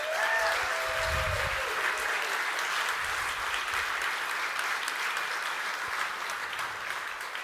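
An audience at a Smashing design and development conference breaks into sustained applause, a dense steady clatter of many hands that tapers a little toward the end, with a few brief voices and whoops early on.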